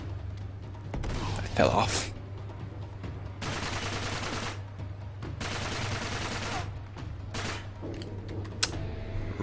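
Blind gunfire in the video game Uncharted 3, coming as several bursts of rapid automatic shots separated by short pauses, loud and close, with a voice speaking briefly between them.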